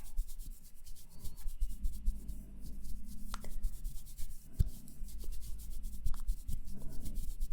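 Makeup brush buffing across an eyelid in a close-up ASMR setting, with soft, continuous scratchy rubbing strokes in an uneven rhythm, quiet and intimate, with occasional small taps.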